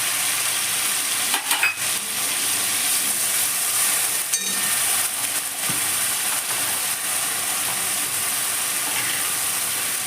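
Onion, ginger, garlic and tomato paste fry in a pan with a steady, loud sizzle and hiss that runs throughout, broken by a few brief stirring clinks.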